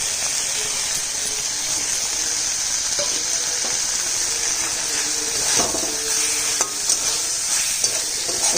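Mustard paste stir-fried in a pan, a bright continuous sizzle close up with scattered scrapes and taps of a spatula stirring through it.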